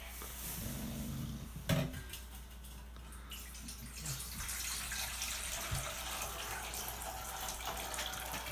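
A kitchen tap runs water into a dog's bowl with a steady hissing flow, after a brief clunk near the start, continuing evenly at moderate volume without speech.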